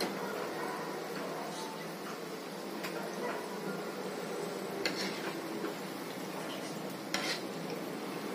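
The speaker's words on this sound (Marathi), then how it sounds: "छान तळून होत आहेत." Shankarpali frying in hot oil for Diwali sweets give off a steady, broadband sizzle and bubbling that runs the whole time, with a few faint clinks and stirring sounds on top.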